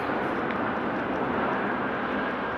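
Airliner landing at Amsterdam Airport in rain, a steady, loud broadband engine roar that fills the whole moment without a break.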